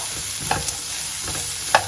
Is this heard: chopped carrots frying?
yes